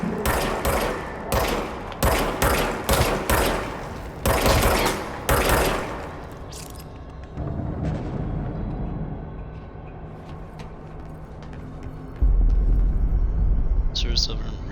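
Rapid bursts of service weapon gunfire in the video game Control, several loud volleys over the first six seconds, then fading into a low rumbling room tone with a heavier thump near the end.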